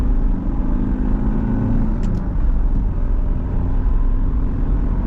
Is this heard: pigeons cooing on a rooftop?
no